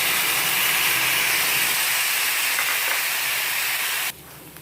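Grated cabbage hits a hot pan with onion and fries with a loud, steady hiss and sizzle that runs on and then cuts down sharply near the end.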